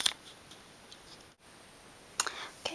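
Scissors snipping through fabric along a traced sweatshirt pattern, a few short sharp cuts at the start and again near the end, close and fairly quiet.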